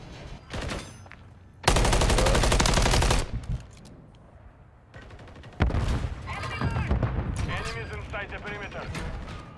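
Automatic gunfire in Call of Duty MW3 ranked play, a long loud sustained burst followed by another dense volley and scattered shots, with a player talking between and over the firing.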